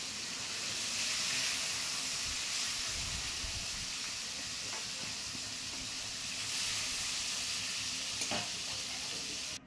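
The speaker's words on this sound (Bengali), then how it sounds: "কড়াইয়ের মধ্যে ভাজা হইতেছে কই মাছ" Koi fish, a climbing perch, frying in oil in a wok, a steady close sizzle and crackle with occasional scraping stir sounds, continuous throughout with no voices.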